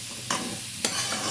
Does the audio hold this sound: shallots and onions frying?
yes